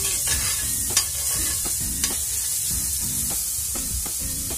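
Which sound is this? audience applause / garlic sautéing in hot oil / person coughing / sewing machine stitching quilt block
garlic sautéing in hot oil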